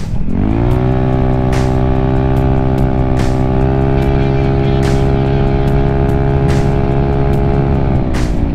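A small motorcycle with a new exhaust hanger launches hard from the line beside a Harley, its engine note loud, steady and close for the whole run, holding a high rev with faint ticks and rattles over the top.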